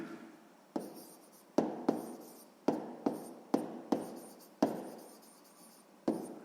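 A pen writes numbers on paper, close and distinct, in about a dozen short sharp scratching strokes at irregular intervals, with quiet gaps between them.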